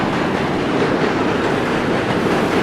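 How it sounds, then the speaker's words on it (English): A subway train rumbles across the Manhattan Bridge overhead, a loud, steady roar of wheels and rail noise with faint clatter, continuous and close, without talk. "That's a train going over us."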